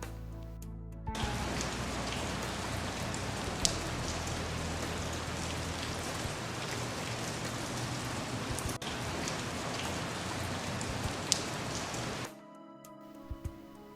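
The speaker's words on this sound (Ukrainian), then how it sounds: "Краплі падають К-к-к, к-к-к, кап-кап-кап." Steady, heavy rainfall pattering densely on a surface for several seconds, with a few sharper drips standing out, then stopping abruptly near the end.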